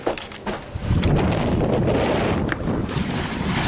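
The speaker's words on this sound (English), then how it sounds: "we're glad for the wind today" Steady wind rushing across the microphone aboard a sailboat under sail off the Algarve coast, a continuous loud broadband roar with water washing beneath it and no voices.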